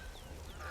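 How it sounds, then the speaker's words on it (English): Geese honk faintly in the video game Horizon Zero Dawn, a brief quiet call over a low background hum. "That man is feeding the geese and a turkey."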